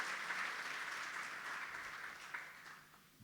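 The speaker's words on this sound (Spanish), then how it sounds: "Dar un aplauso fuerte a Dios." A church congregation applauding to God during a Spanish-language sermon, a distant, even wash of clapping that slowly tapers off.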